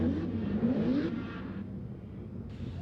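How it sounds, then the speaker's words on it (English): A Nissan 350Z drift car warming up its tires at a drift competition, engine revving and rising in pitch then easing off, moderately distant, with no talk. "Alec Robbins warming up his tires"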